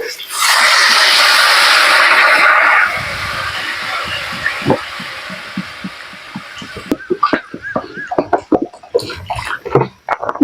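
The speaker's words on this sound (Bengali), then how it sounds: "ঝোল হবে একটু বেশি জল দিলাম" Water gushes into a pan of fried potatoes for a Bengali curry, a loud, steady rushing pour for a few seconds, then bubbling, hissing and clinks as it settles, with a voice speaking briefly.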